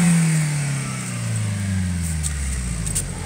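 A car engine is revved to about 4000 rpm and then released. Its steady droning pitch falls smoothly as the revs drop back toward idle, heard alone and close.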